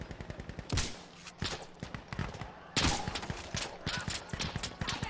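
Sniper rifle gunfire in a video game: two or three loud, sharp cracks stand out over a constant rapid clatter of other shooting and footsteps.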